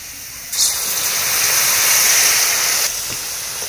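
Turmeric, cumin and coriander powder with a splash of water hitting a hot pan of onions for a mustard-paste bata fish curry: a sudden loud hissing sizzle that holds for about two seconds, then drops back to a softer crackle.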